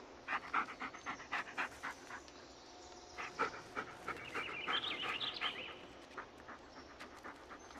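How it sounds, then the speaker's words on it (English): A dog in the Blair Witch video game pants in quick, soft rhythmic breaths close by, steady throughout with faint ambient forest sounds behind. "Yeah, good dog."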